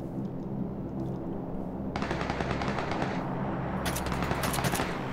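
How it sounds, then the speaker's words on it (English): Gunfire in the PUBG video game: rapid automatic bursts, loud and close, two long strings of shots separated by a short gap over a steady low background hum. "I tried scaring him with the shots"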